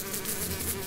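Flies buzz in a thick, unbroken drone, many insects whirring close by at an even, loud level with no speech.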